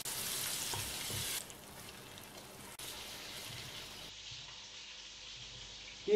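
Breaded schnitzel frying in a pan, a steady broadband sizzle that is loud at first, drops in level after a second or so and continues more quietly to the end, with no voices.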